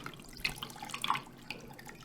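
Brine is poured over a roughly 7.5-pound pork butt, giving a soft, steady trickle and splash of liquid that stays quiet and close, with no voices.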